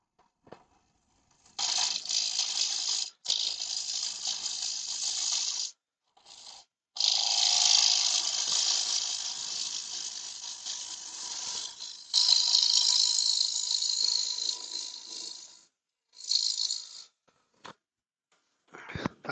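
Bursts of hissing, rattling scraping from a thin, roughly 5 mm thick piece of firewood spinning on a woodturning lathe, loud and close, stopping and starting in several long passes with brief silences between.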